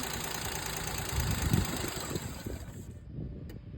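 A 2012 Maruti Alto LXi petrol car engine, in good condition, runs near the listener with a steady hum. The engine swells briefly as the throttle is pressed, then settles back toward idle.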